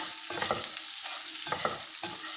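Lemon poha (flattened rice) is mixed together with about three distinct scraping, rustling stirring strokes. They sound close over a soft steady hiss, and no one speaks.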